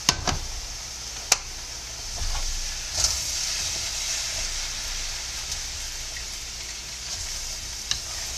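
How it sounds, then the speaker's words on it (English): A tofu scramble with spinach and mushrooms sizzles in a pan as another panful is dumped in, starting with a few sharp clatters and thumps and then settling into a steady crackling hiss. "we're going to dump this other pan in here just to help speed things up"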